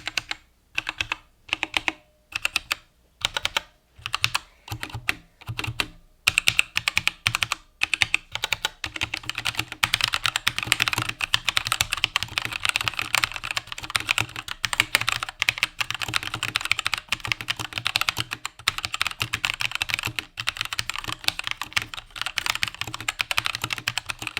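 Steady typing on a Keychron K2 mechanical keyboard with Gateron red switches, light, fast clacks, starting with spaced keystrokes and then settling into a continuous dense rhythm, close and clear.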